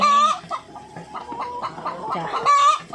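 Laying hens cluck steadily in a hot poultry house where sprinklers have been fitted, with several birds calling close by in overlapping, continuous bursts and no talking.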